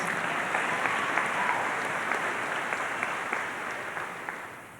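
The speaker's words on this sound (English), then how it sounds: "how about one final round of applause for ourselves?" A crowd claps continuously at a high school graduation ceremony, a thick wash of hands that stays strong and then tapers slightly toward the end.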